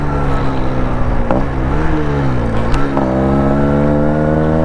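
A Yamaha RX-King motorcycle engine drones loudly and close, its pitch rising and dipping as it revs repeatedly before settling into a steady high hum.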